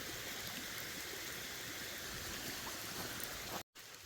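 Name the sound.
water flowing around a small dam through a spillway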